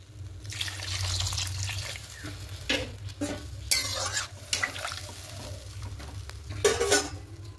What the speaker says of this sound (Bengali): এবার জলটা অ্যাড করবো। আর একটু দেবো, যেহেতু ঝোল হবে এটা।